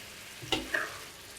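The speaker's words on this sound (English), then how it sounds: "that's the knob of butter, and that will melt down and cook down the potatoes and the onions" Potatoes, onions and peppers cook in melting butter in a pan, a soft sizzle with a couple of brief stirring scrapes, close and quiet.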